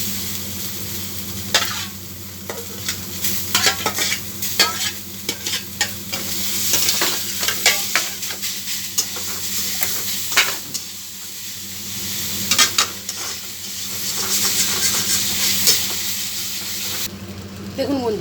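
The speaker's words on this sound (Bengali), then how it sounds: "এবার এর মধ্যে চিকেন কিমাগুলো দিয়ে দেবো।" Chicken mince for potol dorma fries and sizzles in a kadai, a steady hiss broken by repeated scraping stirs of a spatula across the pan, close and fairly loud throughout.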